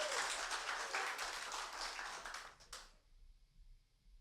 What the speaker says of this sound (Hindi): क्यों ना हम सब ताली के द्वारा उसके स्वागत करें।